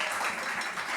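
Audience at an Asturian concert clapping for a drummer being introduced, a short, even burst of crowd applause without talk.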